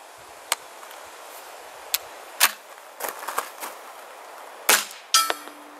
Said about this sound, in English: Well, the fired case ejected.